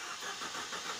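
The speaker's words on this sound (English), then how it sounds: "I have to start the car." A Mercedes-Benz with a manual transmission and a hard-starting fault, linked to a P0340 camshaft position sensor code, cranks briefly. It gives a short, muffled, even engine-start whir heard close and alone.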